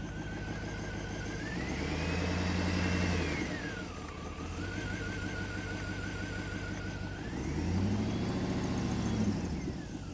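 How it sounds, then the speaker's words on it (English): Engine of a recovered rolled vehicle idling and revving, running rough with a misfire, two swells of revs rising and falling with a whining pitch, loud and close with no talk. "No check engine light, but it's definitely still misfiring."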